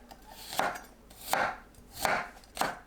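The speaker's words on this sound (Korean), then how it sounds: "마늘을 편으로 썰어주세요." Garlic cloves sliced into thin flat pieces with a kitchen knife on a cutting board: four crisp, evenly spaced knife strokes, close and clear, with no voices.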